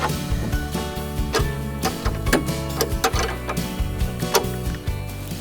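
A 13mm spanner tightens bolts down onto split washers on the handlebar of a Cobra RM51SP80V cordless lawn mower, making quick, close, uneven metallic ticks and clicks in short bursts.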